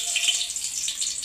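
Curry leaves dropped into very hot oil while cooking peas rice (vatana bhaat), giving a steady, bright crackling hiss that holds for the whole moment without talk.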